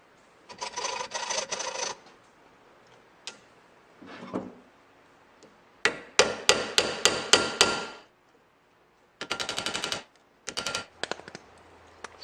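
Nails softened by heating and slow cooling are hammered in as rivets: bursts of rapid, sharp metal taps, close and loud, separated by short quiet gaps.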